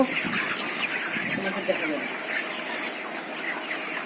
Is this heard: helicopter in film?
no